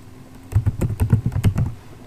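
Quick run of keystrokes on a computer keyboard, about ten close, crisp clicks in an uneven burst after a brief quiet start, with no talk.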